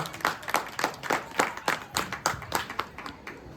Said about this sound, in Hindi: एक बार ताली बजा दो मैम के कॉन्फिडेंस के लिए।